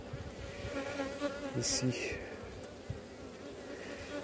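Honey bees flying around a hive, a steady insect buzz running throughout at moderate distance, with a few passes drifting closer and a brief voice over it.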